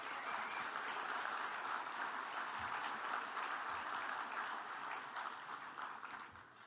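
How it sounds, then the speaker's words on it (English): A luncheon crowd at the Hilton Hawaiian Village applauds the servers, with steady, sustained clapping that fills the room at moderate distance and tapers slightly at the end. "How about a round of applause for our servers today?"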